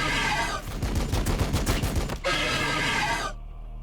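Rapid gunfire from Warhammer 40,000: Battlesector, a loud sustained burst of rattling automatic fire, a brief lull, then a second dense volley that cuts off abruptly into near silence.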